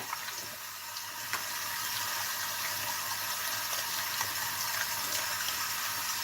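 Items are washed under a running tap, a steady hissing stream of water that splashes and gushes continuously, with a few brief knocks and clinks.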